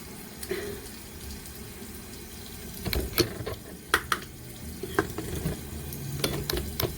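A bathroom tap running for face washing, a continuous close water stream broken by splashes and scattered clacks and knocks.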